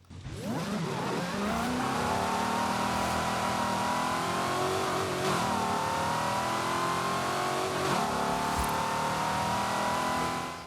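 Ford Mustang SVT Cobra with a 4.6 litre engine revving in Forza Horizon 5, a loud close rising rev that settles into a sustained high drone with brief dips near the middle and end.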